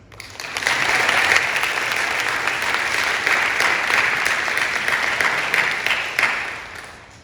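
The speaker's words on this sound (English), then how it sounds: "let's give a round of applause for the people truly responsible for us being here today." An audience at a high school baccalaureate ceremony applauds the graduates' parents, a dense, sustained wash of clapping that swells in quickly, holds steady for several seconds, then tapers off at the end.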